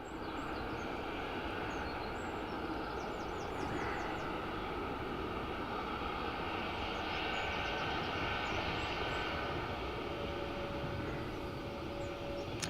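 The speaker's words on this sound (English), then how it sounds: "So this is BA in from Heathrow." A British Airways jet arriving from Heathrow roars steadily at Dublin Airport, a loud continuous engine rumble that fills the whole stretch without pause and with no talk over it.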